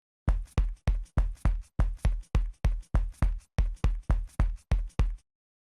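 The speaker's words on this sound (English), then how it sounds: "So now each step now is the walk steps sound cue that we just made" Evenly paced footsteps from a randomized footstep sound cue in Unreal Engine 5 thud one after another, about sixteen crisp steps in a steady walking rhythm, close and clear with no talking.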